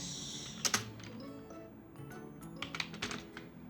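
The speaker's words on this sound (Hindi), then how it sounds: "ये इसको मैं चेंज कर देता हूँ, जैसे कि मैं लिख देता हूँ राम कुमार 127" A return address being typed into MS Word 2007 on a computer keyboard, with soft scattered keystrokes and a few quicker clusters over a faint steady background hum.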